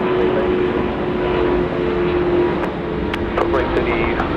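Airliner landing on runway 34 left at Sydney Airport, a loud, steady jet roar with a constant tone, heard close throughout with faint radio-like chatter over the top.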